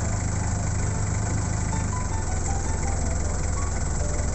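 A Chevrolet LUV car engine idles steadily after being warmed up, a continuous low rumble with a constant mechanical hum that holds even throughout, close and fairly loud, with no talking.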